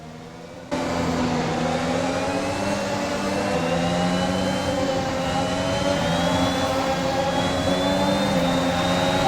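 F1 race cars at the start of a Dutch Grand Prix in the game F1 2021, a loud sudden onset of many high-revving engines whining together and rising steadily in pitch as the pack accelerates.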